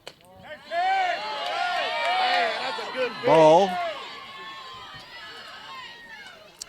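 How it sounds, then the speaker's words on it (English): Vocal crowd at a high school softball game, Wilson Central vs. Stewarts Creek, with cheering and shouting voices swelling and fading around a brief loud call, a commentator talking over it. "The crowd that is here is pretty vocal on both sides, honestly."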